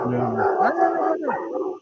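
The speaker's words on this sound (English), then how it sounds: "Is that the dogs barking from the firehouse" Dogs barking and yipping continuously in a loud, dense cluster of overlapping calls, fairly close.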